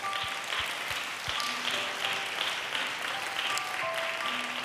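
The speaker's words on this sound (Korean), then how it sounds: "우리 그 하나님께 큰 영광의 박수를 올려드리길 원합니다." Worshippers at a joint Korean-Japanese prayer service applaud together, a sustained, even wash of clapping with a few low thumps and faint ringing tones behind it.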